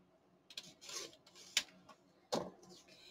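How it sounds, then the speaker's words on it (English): Paper image edges being trimmed in a few short, scraping cuts, quiet and close, spaced out with gaps in between. "So I trim the bottom of my image, trim the sides of my image,"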